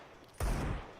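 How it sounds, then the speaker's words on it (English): Desert Eagle pistol fire in a Counter-Strike esports match: a sudden loud burst of gunfire near the middle, ringing and fading over the rest of the moment after a quiet lead-in. "They are giving these Deagles a chance to fire for some pot shots"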